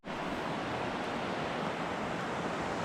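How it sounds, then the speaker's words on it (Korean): Steady, dense rushing of water, continuous and broadband with no breaks, like a swollen river flowing close by after days of rain; no voices. "물소리가 들려요"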